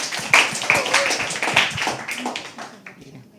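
An audience claps steadily at a live poetry open mic at The Habitat, with a dense patter of hands that fades a little toward the end while voices murmur underneath.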